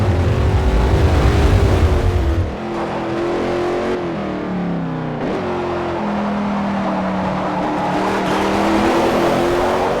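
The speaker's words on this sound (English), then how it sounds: "That turbocharger, the sound can be pretty crazy here." A turbocharged Range Rover engine in Forza Motorsport 4 runs loud and close, a heavy low rumble shifting into rising and falling revs across gear changes, steady and continuous with no talk.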